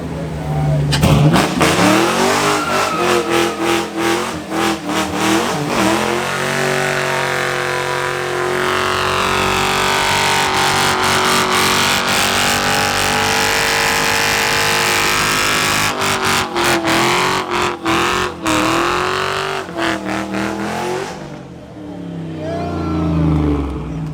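Cars do burnouts at a shop grand opening meet, engines roaring and revving hard in long sustained wails with rising and falling pitch, loud and close, with crowd voices mixed in.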